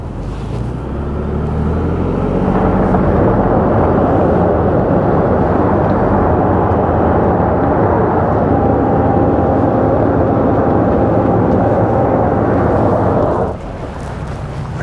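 A Ford Expedition Timberline, rear differential locked in 4 high with mud and ruts mode, strains up a wet, muddy hill. Its engine roars loud and sustained for most of the clip, then drops off near the end.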